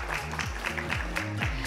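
An audience at an indoor panel event on fixing Pakistan's power sector claps steadily, a moderately loud wash of applause with a faint rhythmic musical pattern beneath.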